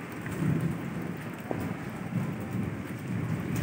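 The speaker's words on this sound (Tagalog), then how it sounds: "Grabe yung ulan." Heavy storm rain pours steadily and loudly throughout, with a deep rumble of thunder rolling underneath and a sharp crack partway through, no voices.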